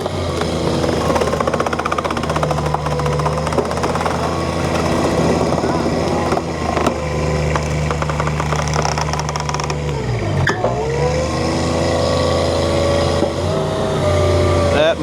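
A 42 XDI log splitter drives a log round through a prototype wedge, its engine and hydraulics roaring loud and steady, with a brief strained drop and recovery near the end; there is no talk.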